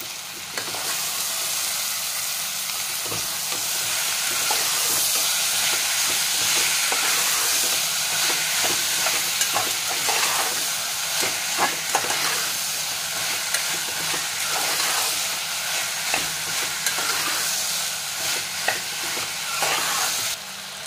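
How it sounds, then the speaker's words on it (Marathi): Continuous loud sizzle and frying hiss as tomatoes and cooked vegetables are stir-fried in a pan for masala rice, with occasional stirring clatter and scraping throughout. "भाज्या शिजल्यानंतर त्याच्यामध्ये टोमॅटो टाका आणि एकदा चांगलं परतून घ्या।"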